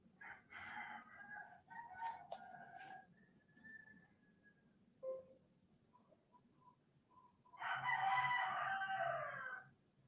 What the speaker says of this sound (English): you can definitely hear them roosters